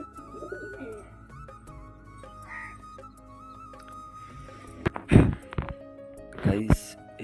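Pet pigeons give soft, faint coos from inside their loft, followed by a few sharp thumps and knocks near the end.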